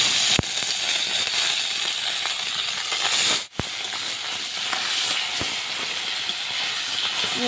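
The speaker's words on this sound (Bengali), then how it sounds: "কড়াই গরম হয়ে গেছে এবার মাছ ভেজে নিচ্ছি" Fish frying in a hot wok, a constant loud broad sizzle and hiss with a few sharp pops and spatters, heard close with no talking.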